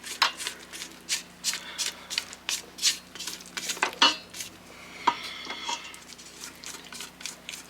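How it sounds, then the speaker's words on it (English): A spatula scrapes down the sides of a mixing bowl of pizza or bread dough, giving a run of quick, close scraping and clinking strokes in an irregular rhythm, with no talking. "So I think I'm going to scrape the sides down"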